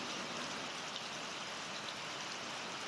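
Steady, dense rain hisses evenly throughout while children bathe outdoors in it, a close, constant wash of drops with no talk over it.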